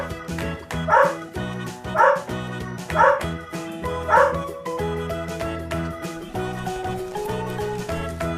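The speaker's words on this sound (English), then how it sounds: "Dog." A dog barks four times in an even rhythm, about a second apart, over a musical backing that continues after the barks stop.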